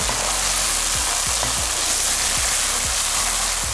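Broth poured into a pan of frying vegetables for borscht, a steady loud sizzle with faint clinks of stirring.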